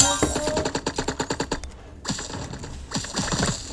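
Rapid automatic gunfire in a Roblox video game rattles out in quick, evenly spaced bursts, loud and close, with a short pause before another volley of shots.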